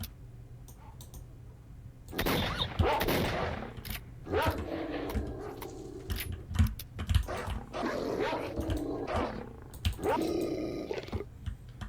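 Dogs snarl and bark in STALKER Shadow of Chernobyl Enhanced Edition, mixed with sharp bursts of gunfire and clicks, loud and close in repeated clusters.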